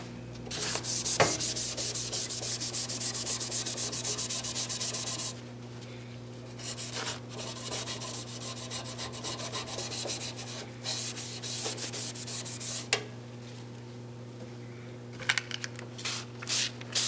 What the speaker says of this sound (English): I'm going to take my Scotch-Brite again and just continue to rub off